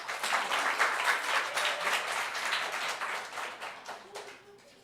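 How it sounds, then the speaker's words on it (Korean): Congregation at a Korean church Sunday service claps together, a dense, lively patter of many hands that swells early and slowly tapers off over several seconds. "자, 우리 박수 한번 하십시오."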